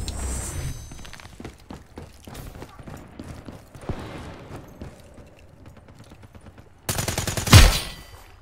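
Razorback submachine gun fired from the hip in Black Ops 3 multiplayer: scattered rapid gunshots and clattering bursts, ending in a loud, harsh burst of fire near the end.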